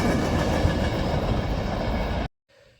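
Pennsylvania Railroad passenger cars roll past close by, a loud steady rumble with rhythmic wheel clatter that cuts off abruptly near the end, leaving faint quiet.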